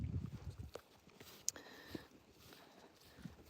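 Friesian horses at a sanctuary during morning feed time clop with a few scattered, fairly faint hoof steps and knocks over a quiet outdoor background, with no clear voices.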